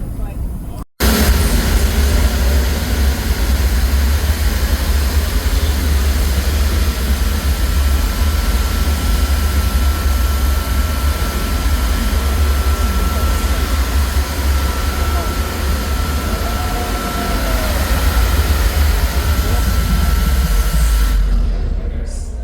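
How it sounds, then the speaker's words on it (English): A rocket engine firing at the NASA space center in Florida: a loud, steady broadband roar with heavy low rumble that starts abruptly and holds for about twenty seconds before cutting off. "Engine firing."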